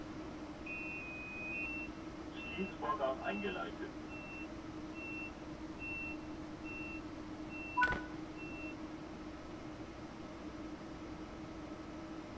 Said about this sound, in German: wir verriegeln die Türen